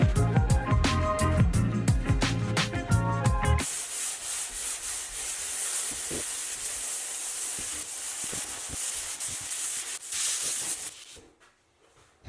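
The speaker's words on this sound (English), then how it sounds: "Then you can come back and sand your seams and apply a second, third, or fourth coat as necessary." Drywall seams get sanded by hand with a steady, raspy rubbing hiss that follows a stretch of music, close and continuous before it fades out near the end.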